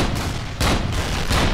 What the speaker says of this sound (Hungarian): Elég kicsit robban ez a töltet.